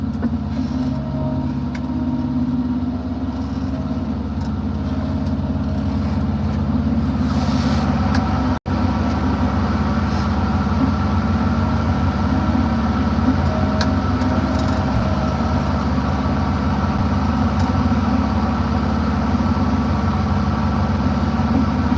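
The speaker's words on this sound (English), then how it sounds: "it looks like I got a truck coming in" A logging truck engine idles steadily nearby, a loud, constant low rumble with a faint whine above it.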